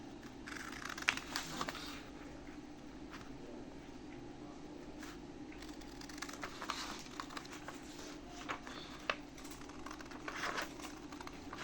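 Scissors trim slipper pattern material in soft, irregular snips and rustles, quiet and close over a low room hum, with occasional crisp cuts.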